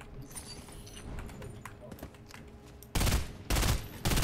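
Rapid bursts of FLAMAS assault rifle fire in a video game come in three loud automatic volleys in the final second and a half, following quieter clicks and game ambience.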